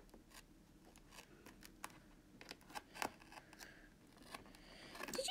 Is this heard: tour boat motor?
no